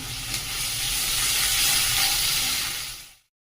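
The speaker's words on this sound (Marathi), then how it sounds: "पाव चमचा जिरे, चिमूटभर हिंग घालणं आणि लसूण ठेचलेला, कढीपत्ता, बारीक चिरून घेतलेला कांदा, सर्व साईडचं व्यवस्थित परतून घेऊया" Chopped onion fries in hot oil with cumin seeds, asafoetida, crushed garlic and curry leaves, a steady close sizzle and hiss that swells slightly mid-way and then cuts off abruptly, with no talking.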